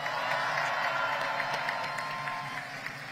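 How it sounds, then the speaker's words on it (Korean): Crowd applause at an outdoor political rally in Andong, sustained clapping with faint cheering that fades slightly toward the end, no speech over it. "박수 부탁드립니다"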